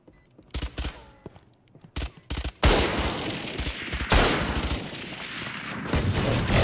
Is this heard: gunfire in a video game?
yes